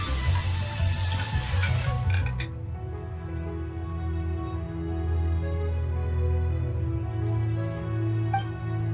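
Crabs frying in a pan during cooking in Genshin Impact, a steady sizzle that starts bright and crackly, then settles into a softer continuous fry over a low background music bed, with no talking.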